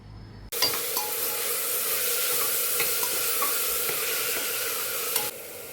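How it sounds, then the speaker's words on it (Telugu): Tomato pieces with turmeric and salt sizzle steadily in a hot pan for mint pulao, a loud continuous fry with scattered spatula scrapes and clinks, starting abruptly and cutting off near the end. "టమాటా ముక్కలు, పసుపు, ఉప్పు వేసి వేయించుకోవాలి."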